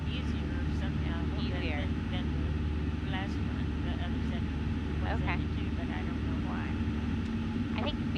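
A Cessna 172 light airplane with a 150-horsepower engine drones steadily in flight, a constant engine hum heard from inside the cabin beneath ongoing conversation.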